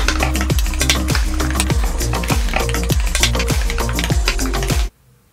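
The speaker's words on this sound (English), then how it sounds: "These things are oxidizing pretty quickly, so let's keep moving. Cut into wedges." Knife cutting apples into wedges on a board, a fast, even run of crisp chopping knocks over a bright background sizzle, stopping suddenly into silence.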